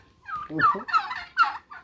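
A few quick, warbling gobbles from turkeys close by in Albania, three short bursts in under two seconds with no talk.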